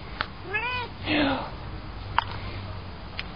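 Cats sitting on a rock outdoors meow several times, with two clear drawn-out meows and some sniffs and clicks, close and fairly loud.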